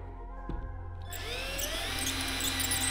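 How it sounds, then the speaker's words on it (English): A power drill whines up and bites into the metal handle of a Stanley cup, a brief knock first, then a sustained high grinding drone that holds steady and close. "Let's drill through the rest."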